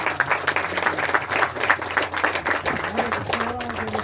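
An audience at a movie audio launch applauds with steady, dense clapping, while a voice speaks briefly over the applause near the end.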